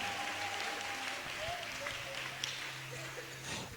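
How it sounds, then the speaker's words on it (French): Church congregation clapping for the Lord during a bilingual French-English sermon, a dense, continuous wash of hands under a low hum and murmured voices, steady throughout. "Let's clap for the Lord."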